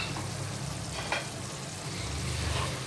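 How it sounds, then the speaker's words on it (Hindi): Chicken frying in oil in a covered-then-uncovered pan for a mango chilli chicken dish, a steady dense sizzle throughout with a brief scrape or stir near the middle, close and fairly loud, no voices. "ये देखिए, अच्छा सा फ्राई होने पर आ गया है।"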